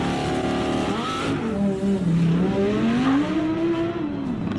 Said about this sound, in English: Sport cars again.